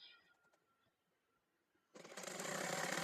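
Sewing machine stitching elastic into children's pants starts after a quiet stretch of faint handling clicks, then runs steadily and loudly close by to the end.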